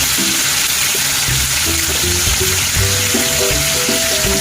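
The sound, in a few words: chicken liver frying in a pan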